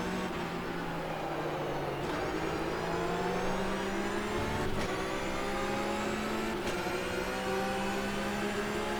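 An Enduracers flat-six race car at Palm Springs in the rFactor 2 sim holds a loud, continuous engine drone whose pitch climbs and dips through gear changes, with brief shift breaks and no speech.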